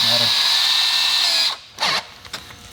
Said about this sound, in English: the drill bit that I'm going to use to make the first hole